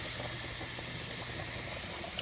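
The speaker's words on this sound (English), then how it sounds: "you can hear that sizzle" Steady sizzling hiss of chicken frying in a hot pan, continuous and fairly close, with no talking.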